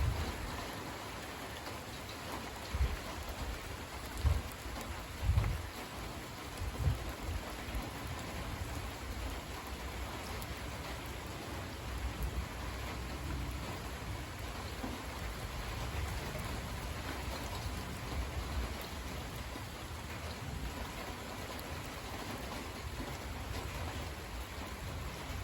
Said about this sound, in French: Ça pleut bien. Il y a des éclairs qui reviennent derrière.